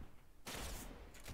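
A burst of rapid gunfire from a gun in the Roblox game BedWars, loud and dense for about half a second, then a brief gap and a shorter second burst.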